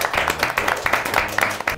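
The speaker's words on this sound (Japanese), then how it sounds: "拍手" Brief bursts of applause from a small group during a Japanese talk show segment, several quick clapping bursts overlapping voices and laughter close to the microphone.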